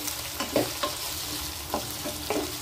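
Ginger-garlic paste sizzles and fries in a pan with a steady crackle, broken by a few soft stirring scrapes, close and moderately loud with no talking.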